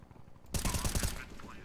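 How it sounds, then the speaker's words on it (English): A flashbang grenade detonates in a video game: a sudden loud blast after a moment of quiet, then a dense ringing wash that slowly fades. "Deploying flashbang."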